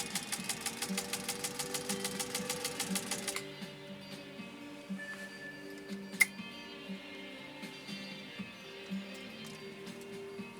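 A 1948 Singer 201-2 sewing machine with a potted motor stitches a single layer of Italian leather, first a fast, steady needle rhythm for a few seconds, then a lower running hum with occasional clicks and a sharp knock.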